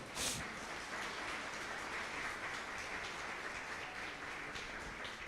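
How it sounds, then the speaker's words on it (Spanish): A church congregation applauds after a sermon, a dense, even wash of clapping that holds steady and fairly loud from start to finish, with no voices over it. "Denle un aplauso al Señor por esa palabra."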